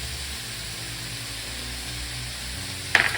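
Vegetables sizzle steadily in hot avocado oil in a pan, a constant close hiss that ends in a brief sharp clatter.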